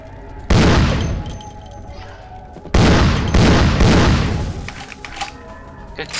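Two loud bursts of video game gunfire tear through the mix, each a sharp onset trailing into rapid rattling shots and decay, with a brief lull between them.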